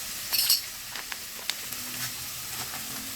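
Cabbage manchurian with tomato sauce sizzles in a pan while a spoon stirs it, giving a soft continuous hiss broken by a few sharp scrapes and clinks up close.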